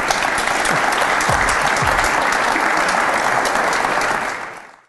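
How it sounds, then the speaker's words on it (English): Steady, dense applause from a business community audience at a live entrepreneur event, loud and continuous for about four seconds before fading out quickly at the end. "Let's give them a round of applause, everybody."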